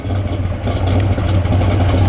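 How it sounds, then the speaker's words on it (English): A deep, steady V8 idle from a 1970 Pontiac GTO Judge rumbles close by, with a constant low throb and no revving, holding even for the whole stretch. "No smoke out the tailpipe here at an idle."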